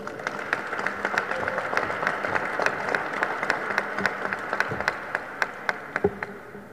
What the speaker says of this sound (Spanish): solicitamos un fuerte aplauso para el profesor Ernesto Cárdenas Casales